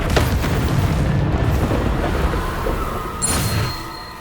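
A Confringo blasting spell goes off in Hogwarts Legacy, a loud booming explosion with a rumbling burst that fills the whole moment and then tails off, with a brief sharp crackle near the end.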